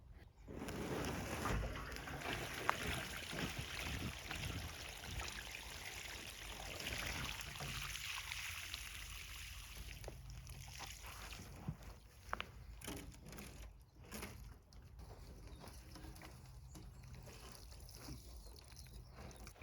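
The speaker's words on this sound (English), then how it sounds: "There is a lot of liquid in there, which is not petrol." Dirty, rust-flecked water pours out of the fuel tank of an Aston Martin DBS under restoration, a steady splashing, trickling flow close by that lasts the whole stretch, with a few sharper knocks near the end.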